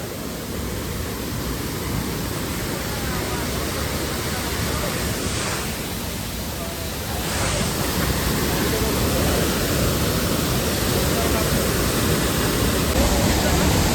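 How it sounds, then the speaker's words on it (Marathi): A waterfall near Amboli pours down through a narrow gully, giving a loud, close, continuous roar of falling water that stays dense and unbroken throughout. "आत्ता बघितलंय मी धबधबा इकडनं इकडे पडता"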